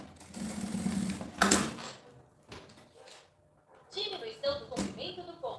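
Along the edge of a child's school bag, a sewing machine hums in short bursts, its stitching mixed with handling noises and fabric shuffling while someone speaks.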